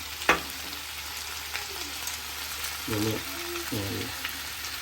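Pieces of chicken for a low-masala chicken roast frying in a pan and being turned over, with a steady sizzle, a sharp clank near the start and a few scraping turns, while a voice hums or murmurs briefly.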